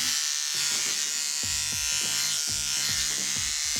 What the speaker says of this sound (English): Using a 10 blade, I'm going to shave the region around his belly.